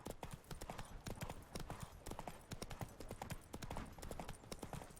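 Roach the horse's hooves clip-clopping in The Witcher 3, a steady, brisk rhythm of distinct hoof strikes, close and clear, continuing without pause.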